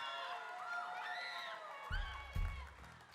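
A crowd cheers, whoops and claps for a band at a 2022 Smokefree Rockquest Auckland Central heat, with high excited voices over a steady roar and a couple of louder bursts near the end.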